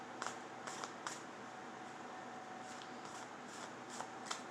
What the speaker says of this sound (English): I think I should just shuffle.